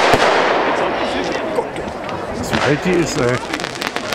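Fireworks being fired at a Franconian fireworks event: dense, continuous crackling and popping bursts with scattered louder bangs throughout, while people nearby talk over the display.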